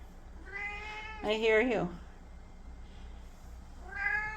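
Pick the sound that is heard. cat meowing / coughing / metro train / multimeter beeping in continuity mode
cat meowing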